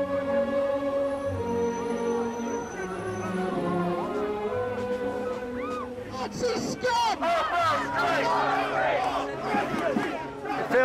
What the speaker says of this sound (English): It feels a bit like an angry football crowd, really.